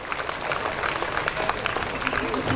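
An audience at a public Ganesh festival stage program applauds for Indian soldiers, a dense, steady wash of many hands clapping at moderate distance, continuous throughout.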